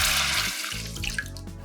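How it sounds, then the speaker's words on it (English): Mushroom broth pours into a pan of cooked mushrooms and fresh thyme as a steady, close liquid rush that runs without a break for under two seconds. "then we're gonna add in our mushroom broth"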